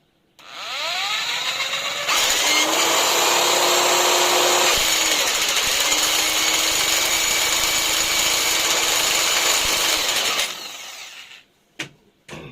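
A repaired generator is excited and its mechanism actuates, producing a loud, steady mechanical whine and roar that starts, shifts briefly in pitch midway, then cuts off, followed by a few sharp clicks.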